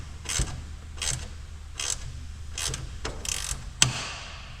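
A hand ratchet clicks in short repeated bursts while tightening a bolt under a car near the brake pedal, about six quick ratcheting strokes close by with brief pauses between, no talking.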